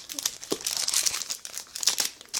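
A Daiso product package is torn open up close, with dense crinkling and ripping of plastic wrap in a steady run of rustles and several sharper tears, with no talk.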